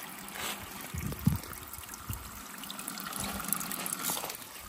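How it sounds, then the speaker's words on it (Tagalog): Water running from an open garden faucet, a steady trickling and splashing that stays fairly faint and constant, with a few louder splashes and brief rustling near the start. "Ay, di pa ko patay yung gripo."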